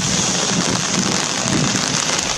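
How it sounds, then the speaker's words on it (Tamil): Moderate rain falls over Coimbatore city streets, a steady dense hiss of drops hitting surfaces that continues evenly throughout, with no voices. "கோவை மாநகரில் உக்கடம், டவுன்ஹால், காந்திபுரம், ரயில் நிலையம், ராஜவீதி உள்ளிட்ட பகுதிகளில் மிதமாக மழை பெய்தது"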